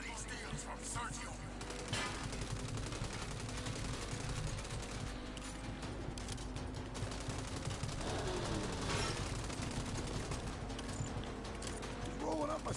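Gunfire crackles in rapid bursts within a noisy action game, dense and continuous under shouting voices and background music, with repeated sharp volleys layered over a steady low rumble.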